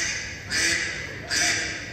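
Domestic ducks quack twice at a bird show at Dubai Safari Park, two loud bursts about a second apart over steady crowd and outdoor background noise.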